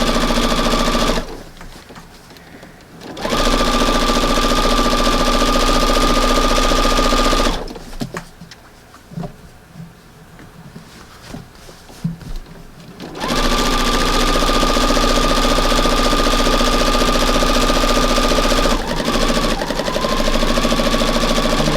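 Sewing machine stitching fabric for a front porch redecoration, running loud and close in three long bursts separated by brief pauses, with a steady mechanical whir and knocking rhythm.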